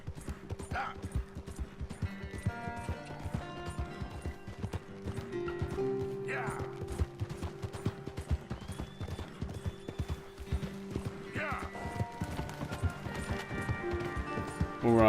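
Horse hooves clip-clop in a fast, steady galloping rhythm in Red Dead Redemption 2, set against sustained game music, with a whinny rising briefly above the beat.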